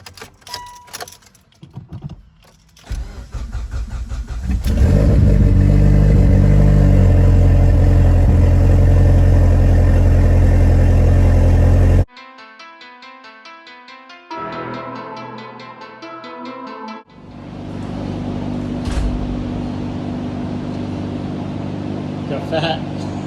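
A freshly started motor runs loud and strong with a steady, droning idle, then drops away abruptly before a quieter engine hum returns, with a voice heard at times.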